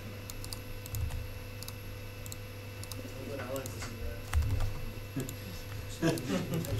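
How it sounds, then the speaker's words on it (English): Light, fast keystrokes on a computer keyboard come in scattered bursts, faint beneath a constant hum, with a person talking over them at times. "Stop typing sudo, you're rude."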